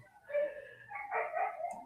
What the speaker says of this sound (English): Sorry about the crazy neighbor dogs barking.